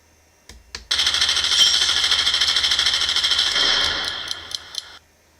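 A P-47 engine sound module plays through pink half-inch insulation foam, a rapid rattling engine drone that starts after a couple of clicks, holds steady for about four seconds, then cuts off with a few pops.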